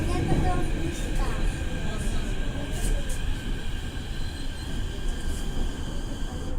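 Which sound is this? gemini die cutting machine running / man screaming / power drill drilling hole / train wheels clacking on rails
train wheels clacking on rails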